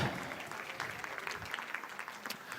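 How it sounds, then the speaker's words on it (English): Audience applause at a retail conference, a dense steady patter of many hands clapping at moderate distance for a few seconds, with faint voices mixed in. "these people really deserve a round of applause"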